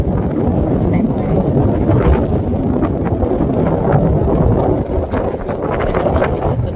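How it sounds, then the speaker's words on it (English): Strong coastal wind buffets the microphone in a continuous low roar, loud and close, with gusts rising and falling throughout. "I guess it's because the wind is blowing that direction"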